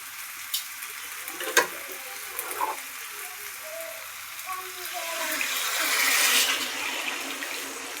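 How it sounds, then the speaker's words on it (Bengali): Hot water is poured into a pot of young jackfruit mixture, a soft rising splash and hiss that swells toward the end over light clinks and faint sizzling. "এবার এর মধ্যে জল গরম করে রেখেছিলাম সেই জলটাই দিয়ে দিচ্ছি"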